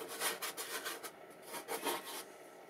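A brush mixes leftover paint colours, orange and greens, on a palette, making a soft rhythmic rubbing and scraping of repeated strokes, close and quiet with no talking.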